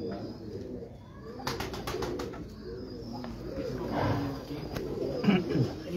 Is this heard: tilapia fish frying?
no